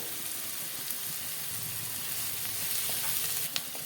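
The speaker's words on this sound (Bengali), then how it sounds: "পেঁয়াজটাকে লাল লাল করে ভেজে নিতে হবে" Steady, close sizzling of onions and green chillies frying in mustard oil in a pan, with occasional soft stirring scrapes and small crackles throughout.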